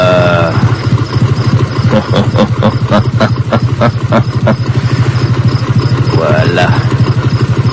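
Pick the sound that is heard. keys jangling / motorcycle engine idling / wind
motorcycle engine idling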